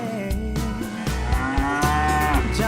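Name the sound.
cow mooing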